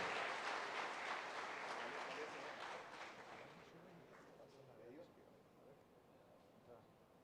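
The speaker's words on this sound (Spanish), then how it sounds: "Vamos a darle un fuerte aplauso y una bienvenida cálida a Yomil Borrell." Audience applause welcoming a speaker at a closing session of an information-security congress in the Dominican Republic, a dense wash of clapping that starts loud and gradually thins and fades over several seconds.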